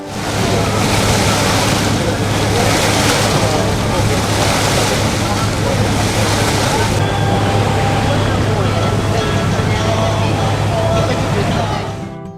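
A boat cuts through sea waves off Rio de Janeiro toward the Rio–Niterói bridge, with a loud continuous rush of water and wind, a low steady engine drone beneath, and faint voices in the background.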